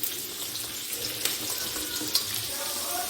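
Onions and spring onions hit hot oil in a pan for homemade veg noodles, giving a continuous bright hiss and crackle, close and fairly even, with a couple of sharper pops.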